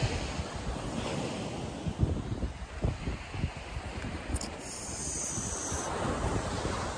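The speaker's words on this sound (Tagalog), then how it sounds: "Ang dagat." Sea waves wash and roll against a steady roar of wind buffeting the microphone. The surf is broad and continuous, with a few louder swells rising out of the wind noise.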